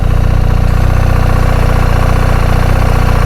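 A Honda DCT motorcycle engine idles close by with a steady, even low throb and a regular rhythmic pulse, no other sound.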